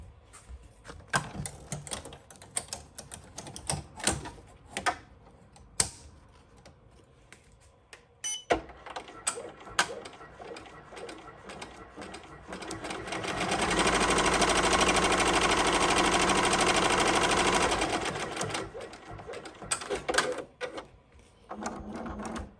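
An embroidery machine stitches the tack-down of an applique in one loud, steady run of rapid stitching lasting several seconds, preceded and followed by scattered clicks and handling noises nearby.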